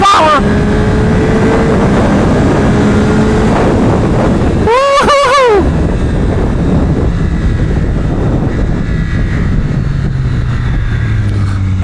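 A 2025 Yamaha R9 sport motorcycle on a race track roars continuously under hard acceleration, loud and close with heavy wind rush, a brief rising engine whine cutting through midway.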